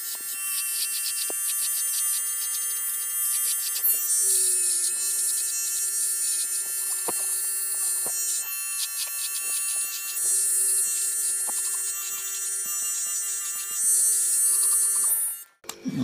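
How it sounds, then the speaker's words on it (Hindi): Electric hair trimmers, a VGR V082 and a Daling DL 1317, shave hair with a steady close high-pitched buzz and faint hum that runs throughout, then cuts off at the end. "हाफ हम करेंगे डेलिंग से, हाफ ट्रिम करके दिखाएंगे VGR से।"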